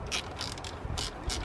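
Ratchet undoing a T25 screw on an EGR valve bracket, a series of quick close clicking bursts from the pawl, about five sets of rapid ticks in a short span, with no talk.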